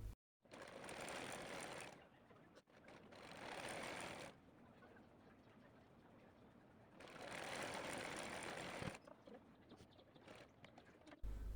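A sewing machine stitches a salwar in two sustained runs of steady mechanical whirring, separated by quieter pauses with light handling sounds. It is close and fairly faint, with no talking.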